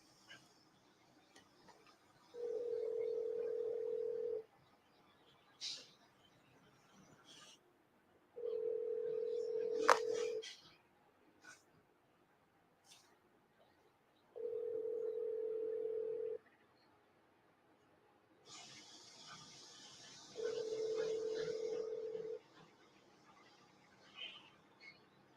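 Four evenly spaced ringback tones on an outgoing phone call, each about two seconds long and separated by roughly four seconds of quiet, moderately loud with faint background hiss.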